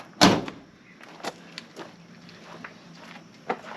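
A 6-foot escape door on a trailer opens with one loud bang near the start, followed by a few lighter knocks and rattles scattered through the rest of the moment.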